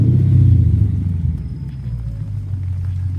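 A deep, steady exhaust rumble from a Lexus IS500 with an A'PEXi N1 titanium exhaust, idling close by, loudest at the start and then settling into an even low drone.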